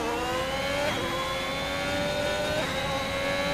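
A race car engine in a racing video game holds a steady, high-pitched whine at near-constant pitch with two brief gear-shift dips, continuous and fairly loud with no talk over it.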